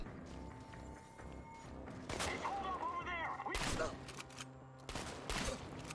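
Shotgun blasts in the post-apocalyptic video game Chernobylite, a few loud booming shots over a busy layer of game ambience and effects.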